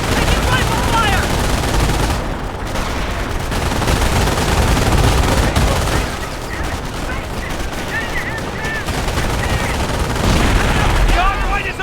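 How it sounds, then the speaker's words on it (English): Rifle and machine-gun fire crackle continuously in the Company of Heroes war game, dense overlapping bursts and booms throughout, with shouted soldier voices mixed in. "Taking rifle fire!"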